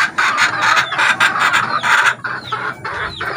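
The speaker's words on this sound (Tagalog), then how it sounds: "Ito ang aking 2 purong labuyo." Two pure labuyo jungle fowl chickens cluck repeatedly in loud, close, rhythmic bursts, with short pauses between calls.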